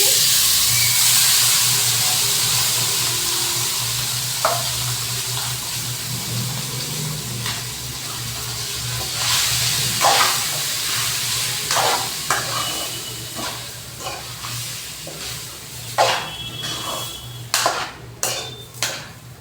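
Cooked rice with tempering being warmed and stirred in a hot pan, a steady sizzle underneath with scraping spoon strokes against the metal that grow sharper and more frequent toward the end.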